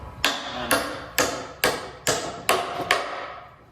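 Seven sharp hammer blows on a nail into wood at a steady, even rhythm, each ringing briefly, close by with no talking.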